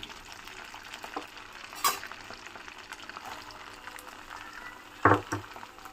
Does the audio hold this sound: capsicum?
yes